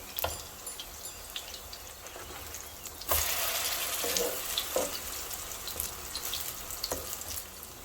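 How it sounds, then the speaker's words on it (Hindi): Chicken chapli kebabs frying in oil in a pan over medium-high heat: a constant dense sizzle and crackle, close and steady, that swells louder partway through and keeps going with small pops, no talking. "मीडियम हाई पर रख के कबाब को फ्राई करें"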